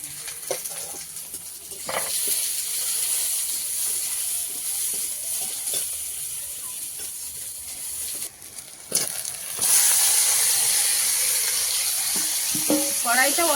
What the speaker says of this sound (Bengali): কড়াইতে অল্প করে তেল দিয়ে আর একটু পেঁয়াজ রসুন হালকা ভেজে নিয়েছি, নিয়ে আর মশলা মাখানো মাংসটা দিয়ে দিলাম ভালোভাবে কষানোর জন্য